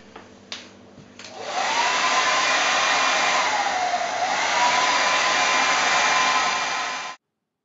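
A handheld dryer blows on joint compound over patched gyprock, clicking on and then holding a loud, steady whoosh with a faint whine for several seconds before cutting off abruptly.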